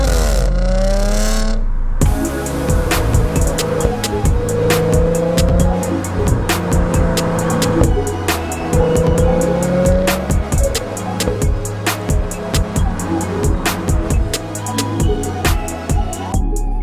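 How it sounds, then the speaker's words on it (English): A 2014 Audi S5 with a supercharged 3-liter V6 and all-wheel drive, heard from inside while driving: a loud, steady engine drone with rising and falling revs and gear changes, and no talking. "Here we are in my 2014 Audi S5. It is an all-wheel drive 3-liter V6 engine with a supercharger on top"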